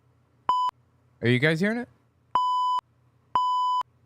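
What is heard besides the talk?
beep sound effect from a soundboard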